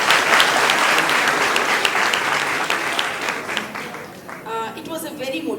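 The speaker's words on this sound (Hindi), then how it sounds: "जोरदार तालियों से।" An audience at a school talk applauds loudly and continuously after a motivational speech, the clapping thinning out and fading toward the end as a voice begins speaking.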